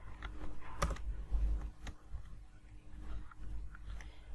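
Computer keyboard keys tapped while typing into a Google Sheets attendance sheet, close and fairly quiet, a few sharper clicks among irregular soft taps.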